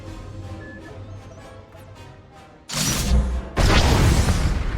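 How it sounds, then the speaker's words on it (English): Flux cannons on a battle station in SWTOR fire in heavy booming blasts that roar in suddenly after a quieter hum, one thunderous surge followed by a second even louder sustained blast. "With one movement, our flux cannons fire, and an Imperial capital ship is disintegrated."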